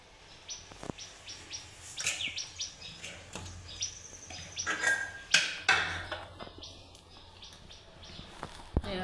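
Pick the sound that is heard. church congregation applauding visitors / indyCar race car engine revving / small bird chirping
small bird chirping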